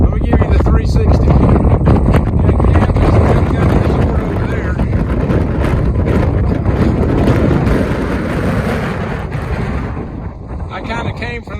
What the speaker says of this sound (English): It's probably 40-mile-an-hour winds up here, I'm guessing, because it's pushing us around big time.